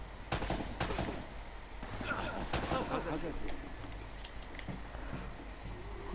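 Gunfire crackles in the Uncharted: Drake's Fortune video game as several sharp shots and bursts ring out in the first seconds, then thin into scattered pops beneath continuous game ambience while a person talks.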